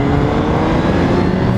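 The engine of a 2015 Suzuki GSX-R 1000 motorcycle gives a loud, continuous drone while engine braking on a test ride, with wind rush blended in and no voices.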